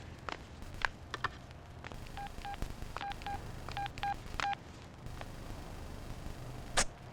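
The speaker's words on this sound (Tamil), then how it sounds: "ஒரு ஃபோன் பண்ணி பார்க்கலாமா?" A telephone number being dialed in a movie scene, a run of short, evenly spaced keypad tones at close range over faint background noise, followed by a brief sharp click near the end.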